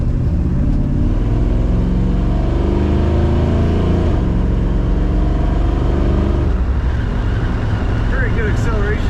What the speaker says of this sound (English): good acceleration in this car.